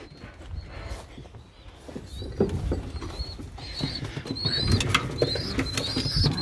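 Pigeons in a breeding loft fitted with nest boxes, giving soft cooing and bursts of wing flapping with scuffling movement, fairly close and continuous, growing busier toward the end.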